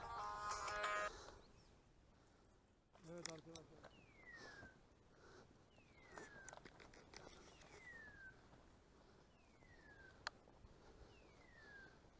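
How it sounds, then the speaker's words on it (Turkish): A mobile phone rings outdoors during a woodcock hunt with a setter, its ringtone repeating as a series of short falling electronic chirps at a moderate distance. Someone speaks briefly at the start. "Telefon çalıyor."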